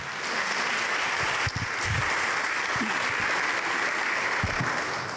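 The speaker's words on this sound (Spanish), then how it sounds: "¿Qué tal si usted le da un fuerte aplauso al Rey de Reyes y Señor de Señores?" A church congregation applauds loudly, a dense steady wash of clapping from many hands that fills the room and continues throughout, with a few low voices under it.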